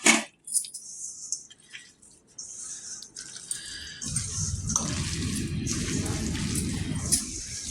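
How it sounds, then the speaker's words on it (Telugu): Water pours in small additions as it is stirred into onion pakoda batter, giving sloshing, splashing and wet mixing noises, with brief clinks early on. "కొంచెం కొంచెం వాటర్ వేస్తూ కలుపుకోండి"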